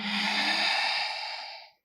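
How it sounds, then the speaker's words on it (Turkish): A long, deep exhale flows out steadily during a yoga session, close and breathy, fading smoothly to silence after nearly two seconds. "Derin bir nefes alalım."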